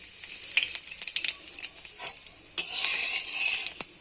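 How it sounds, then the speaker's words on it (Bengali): Bay leaf, dried red chilli and whole cumin sizzle in hot oil as a spoon scrapes and taps the pan, a close bright crackle with clinks over about four seconds. "আমি এখানে তেজপাতা ফোড়ন দিচ্ছি শুকনো লঙ্কা, এখানে দিচ্ছি গোটা জিরে"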